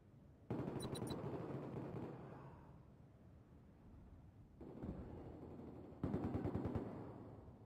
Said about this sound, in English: listen to the guns